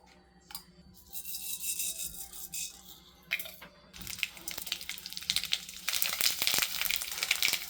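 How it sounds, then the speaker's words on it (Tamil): Mustard seeds, asafoetida and a red chilli tempered in hot ghee for Mangalore rasam, a crackling, popping sizzle that rises and thickens toward the end, close and moderately loud with no talk. "நெய் ஊற்றி கடுகு, பெருங்காயம், ஒரு வரமிளகா போட்டு தாளித்து அதில் கொட்டணும்."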